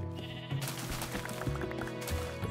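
Sheep bleat in a blocky survival video game, several short wavering calls over soft background music, with no talking.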